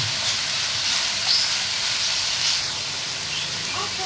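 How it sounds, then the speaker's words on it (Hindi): Carrots frying in a hot pan for Chinese fried rice, a steady close sizzle and hiss with faint stirring, holding constant throughout. "गाजर थोड़ी हार्ड होती है तो हम पहले इसको डाल के फ्राई करेंगे"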